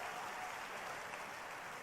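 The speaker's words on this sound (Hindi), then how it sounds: "जोरदार ताली बजा के फिर से एक बार अभिनंदन करें" A crowd at a Madhya Pradesh political event with Chief Minister Shivraj Singh Chouhan claps briefly, a faint, distant and even patter lasting under two seconds.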